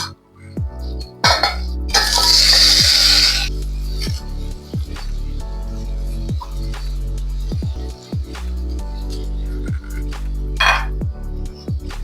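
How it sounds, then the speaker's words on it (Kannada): Soaked rice goes into a pan of roasted moong dal for khara pongal, bringing a brief loud hiss of sizzling among repeated metallic clinks and scrapes of a spoon against the pan. "ಇವಾಗ ನೆನ್ಸಿಟ್ಕೊಂಡಿರೋ ಅಕ್ಕಿ ಹಾಕೋಣ"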